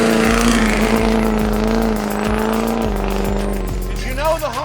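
A modified Hummer H1 fitted with a Duramax V8 engine is driving fast, its engine droning steadily and loud throughout, with the pitch shifting slightly as it accelerates and a faint tire squeal near the end.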